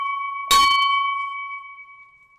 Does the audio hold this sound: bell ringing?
yes